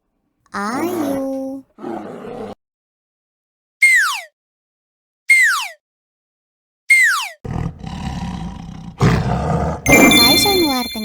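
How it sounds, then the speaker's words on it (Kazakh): A bear gives a few loud, close roars and then falls silent. Bright descending squeals and a burst of noisy roaring follow, with sharp tonal calls at the end. "Бұл аюдың дауысы."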